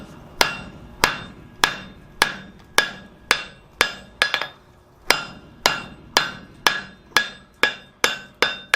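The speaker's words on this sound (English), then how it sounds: "we just want to take and give this a few whacks and get it to bend" A hammer strikes hot steel over the horn of a blacksmith's anvil, about sixteen sharp, ringing blows at a steady, roughly half-second rhythm, each with a bright metallic ring, close and with no voices.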